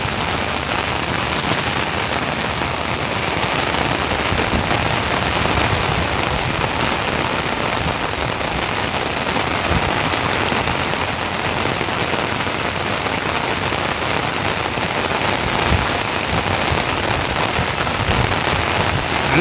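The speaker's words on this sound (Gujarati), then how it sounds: "અમારે તો અત્યારે બહુ વરસાદ અત્યારે ચાલુ છે બજુડ ગામમાં" Heavy monsoon rain pours down steadily on surfaces in a village in Gujarat, a dense, even hiss that stays loud and continuous, with no voices.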